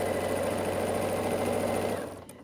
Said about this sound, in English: You're basically just sewing this closed into a tube.